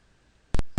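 Two sharp computer mouse clicks close to the microphone, spaced about a quarter second apart after a quiet stretch, with no talking.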